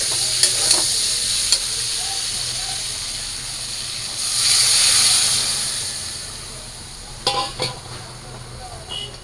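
Water is poured into a pan of vegetables cooking for a light home-style curry, giving a swelling hiss and sizzle in the middle, with a few sharp clinks before and after against a steady frying background.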